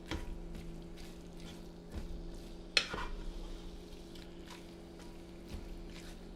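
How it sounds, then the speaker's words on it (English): Ground meat browning with garlic in a soup pot for lasagna soup: quiet stirring scrapes and soft frying, with one sharp utensil knock on the pot near the middle, close up. "As we browning this, I'm gonna drop some garlic in here."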